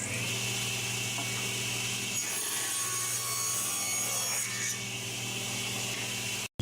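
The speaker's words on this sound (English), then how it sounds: "I'll start cutting them into sort of pieces" A saw cuts a wooden board into small pieces for a bowl-from-a-board project, giving a steady, loud continuous cutting whine that runs throughout, then stops abruptly at the end.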